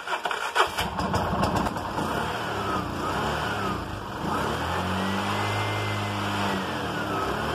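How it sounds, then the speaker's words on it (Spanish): A car engine runs steadily after starting, idling to warm up on a fresh replacement battery with a new voltage regulator, a continuous mid-pitched drone with a low hum settling in partway through, no talking. "Calentamos un poco el motor para que pueda de repente cargar la batería"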